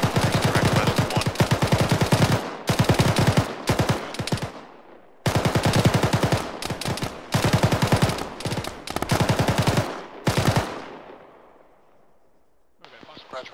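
Bursts of automatic gunfire in an Arma-style ShackTac military game battle, long rattling volleys broken by short gaps, then a trailing echo fading to near silence before a brief final burst.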